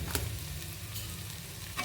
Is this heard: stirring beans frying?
yes